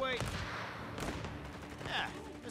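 A rifle grenade fires in Company of Heroes 3 amid rapid battlefield gunfire, with a few sharp bursts over a busy mix of shots and effects and a faint voice underneath.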